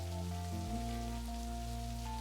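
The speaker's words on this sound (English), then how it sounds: "Just try and enjoy the rain." Steady rain from the video game Necrobarista patters softly and evenly beneath sustained musical tones, with no speech.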